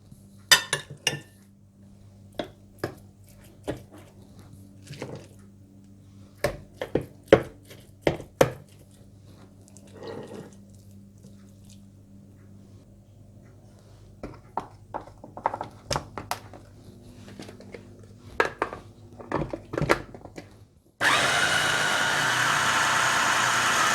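Minced meat being ground for gola kebabs, with sharp irregular clatter and knocking under a low steady motor hum, ending in a few seconds of loud continuous whirring from a grinder.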